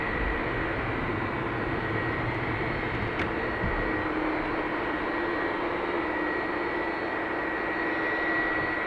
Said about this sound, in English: WestJet Dreamliner on pushback